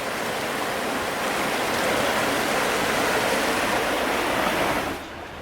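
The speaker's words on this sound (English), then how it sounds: "Fun little patch of white water through this stretch." Steady rushing of white water rapids on the Willimantic River, close and loud, a continuous churning roar that drops off abruptly near the end.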